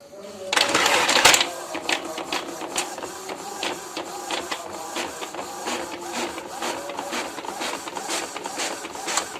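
An Epson L130 inkjet printer prints a test page with repeated mechanical clicks and whirring carriage passes in a steady rhythm, beginning with a louder burst of rattling feed noise, while someone speaks over it.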